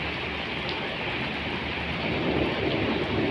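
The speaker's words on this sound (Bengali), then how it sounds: "অনেক ভারী বৃষ্টি হইতেছে।" Heavy rain pours down in a dense, unbroken roar, loud and close, with no voices over it.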